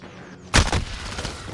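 Gunshots in a video game gunfight with an AS Val rifle: two loud, sharp reports in quick succession, followed by a lingering reverberant tail.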